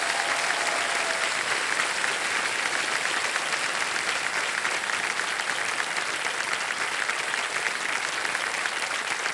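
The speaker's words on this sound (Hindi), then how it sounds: "जोरदार तालियां बज जाएं इनके लिए" Thunderous applause fills a television quiz show studio as a contestant is congratulated, a dense, loud and unbroken wash of many hands clapping for several seconds.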